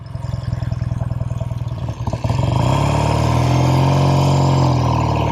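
Loud, close engine of an original 1969 Triumph Daytona 500 motorcycle on the road, pulsing steadily, then briefly dropping during a gear change before surging into a smoother, higher drone.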